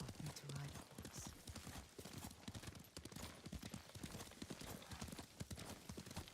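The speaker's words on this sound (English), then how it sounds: "Lord Sakai taught me to ride a horse" Horse hooves clip-clop steadily at a riding gait in the video game Ghost of Tsushima, a continuous rhythmic patter throughout, with occasional voices in the background.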